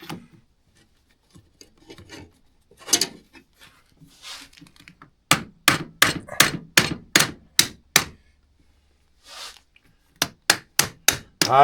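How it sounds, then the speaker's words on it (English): Sharp channel-hammer strikes on a Polaris snowmobile's Xtra10 rear suspension ring out close by, first scattered taps and then a fast, steady run of blows, pausing before another quick series. "Need my channel hammer."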